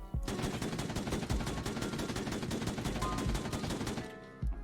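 Sustained automatic gunfire in the military shooter Squad rattles off in a fast, unbroken stream for about four seconds, loud and close, then stops with a final shot.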